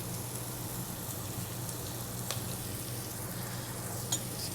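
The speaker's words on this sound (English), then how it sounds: "while that's cooking, I'm going to add in my garlic using my garlic press" Pressed garlic sizzles in a hot pan, a steady soft crackling hiss with a couple of faint pops, heard alone.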